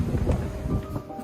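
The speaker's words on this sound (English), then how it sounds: "It is rather windy." Wind on the Amalfi Coast buffeting an outdoor microphone, producing a close, low rumbling roar that swells in gusts over just over a second.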